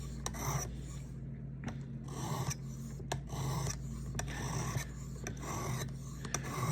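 A blade edge rasps steadily against a sharpening stone while the bevel of a Ferrum Forge Buck knife is worked, with repeated strokes and small ticking contacts at moderate, fairly quiet level.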